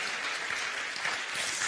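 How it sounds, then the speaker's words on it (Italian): A theatre audience in Milan applauds in a steady, dense wash of many hands clapping, sustained and even throughout with no voices standing out. "Se fate un applauso a chi rende possibile questo straordinario teatro"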